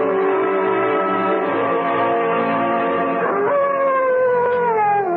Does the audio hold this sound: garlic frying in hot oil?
no